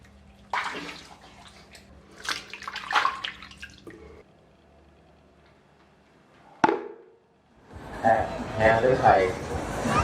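Warm water mixed with shampoo is poured out in a loud, splashing gush near the end, following soft talking and a single sharp knock.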